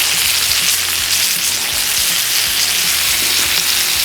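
Steak and butter sizzle on a hot griddle, a loud, continuous hiss with scattered crackles and pops throughout and no voices.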